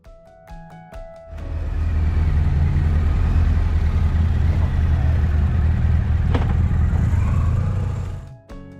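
A Honda ST1100 and a BMW R1250RT touring motorcycle riding along: a loud, steady engine and wind roar that builds after a brief start and holds until it fades at the close, with no voices.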